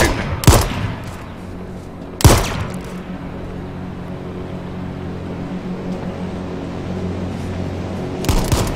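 Gunfire in the battle royale video game H1Z1, a few sharp, loud shots spaced seconds apart over a steady low background rumble, with a final burst near the end.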